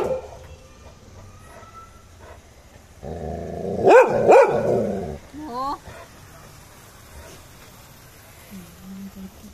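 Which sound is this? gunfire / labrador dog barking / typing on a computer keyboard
labrador dog barking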